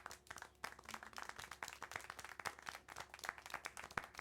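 A crowd applauds in a video game, Syberia: The World Before, with dense, rapid clapping that sounds faint and slightly distant, continuing steadily throughout.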